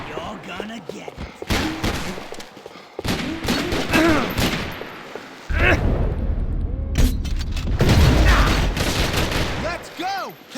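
Bursts of gunfire during a firefight in the video game Max Payne 3, clustered volleys with short gaps and a heavy rumbling stretch near the end, loud and close, with voices shouting over the shooting.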